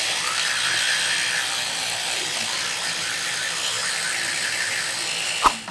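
Electric toothbrush running steadily throughout, a close, even buzzing hum with no voices, ending in a brief knock.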